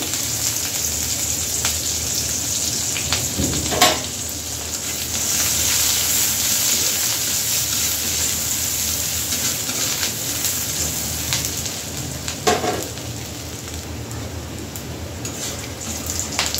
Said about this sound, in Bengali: কিছুটা পেঁয়াজ কুচি দিয়ে দিলাম